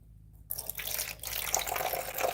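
Water pours into a seedling tray, a brief gush followed by a steady splashing trickle as the water spreads, close and moderately loud with no voices.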